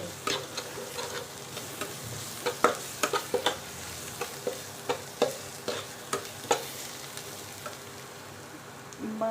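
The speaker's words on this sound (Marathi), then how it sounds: "थोडीशी हळद, छान असं मिक्स करून घेऊ।" Cluster beans fry with turmeric in a pan, giving a steady low sizzle with repeated scraping and clattering stir strokes from a spatula, close and fairly quiet, with no voices.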